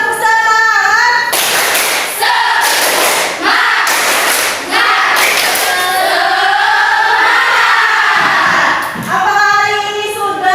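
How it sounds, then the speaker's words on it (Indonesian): Schoolchildren do a rhythmic spirit-clapping chant in class, bursts of group claps in a set pattern alternating with loud voices chanting together. "Tepuk semangat."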